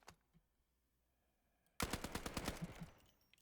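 RM277 rifle firing in the video game Delta Force: a loud, rapid burst of automatic shots at close range starting suddenly after near-silence, about a dozen rounds in quick succession before trailing off.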